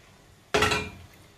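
A single sharp clatter of washed rice and metal as it is tipped into a big cooking pot, loud and close, ringing briefly before fading, with no voices.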